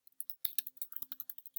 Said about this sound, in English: And I'm going to go ahead and start typing.